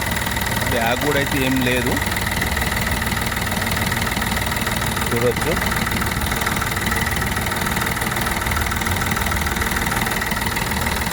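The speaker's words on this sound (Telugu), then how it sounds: "ఇంజన్ కూడా స్మూత్గా సౌండ్గానే అవుపిస్తుంది." A used vehicle's engine idles smoothly with an even, continuous hum and rumble, while people talk over it.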